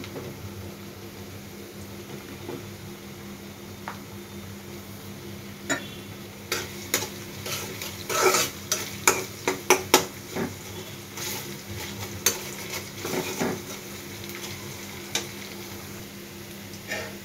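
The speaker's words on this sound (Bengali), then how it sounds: "পেঁয়াজ রসুন মরিচ ভাজা হয়ে গেছে।" Onion, garlic and chili frying in a pan, with a low, steady sizzle under a run of sharp clicks and scrapes as a spatula stirs against the pan, near and moderately loud.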